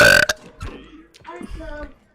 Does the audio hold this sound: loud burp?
yes